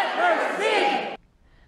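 A crowd of protesters in a state legislature gallery chants loudly in unison for about a second, the massed voices cutting off abruptly into near silence.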